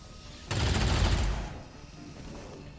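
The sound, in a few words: gunshots in XCOM 2 Long War of the Chosen video game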